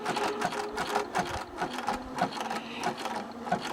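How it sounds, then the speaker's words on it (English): A sewing machine runs a zigzag satin stitch along a raw fabric edge, a steady rapid mechanical chatter with regular pulses, close and alone with no talking. "catching that raw edge with my zigzag and making a nice little satin stitch"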